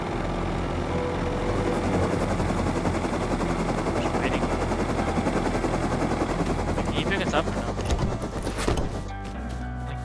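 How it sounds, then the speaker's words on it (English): A scrap helicopter in the survival video game Rust throbs with a loud, steady rotor drone and bursts of gunfire. A voice speaks briefly over it, and the noise eases near the end. "there's a scrap heli that just spawned right in front of me"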